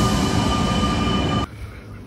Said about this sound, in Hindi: उन लोगों का वो ट्रेन आ गया